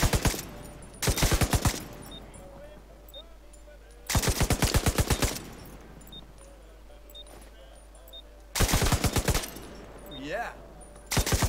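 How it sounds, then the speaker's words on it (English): Bursts of rapid automatic gunfire at a shooting practice in the video game The Division 2 come in three loud volleys separated by quieter gaps with faint game sounds. "Apparently shooting practice or whatever."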